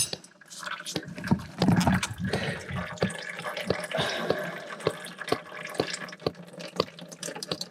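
Old oil draining from an abandoned 1960s B414 tractor, a steady close trickle of liquid with frequent sharp drips falling throughout.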